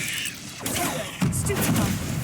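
Confringo and Bombarda blasting spells fire in Hogwarts Legacy, two quick magical bursts in succession, each a loud whooshing crackle with a booming impact, heard over a busy game soundscape.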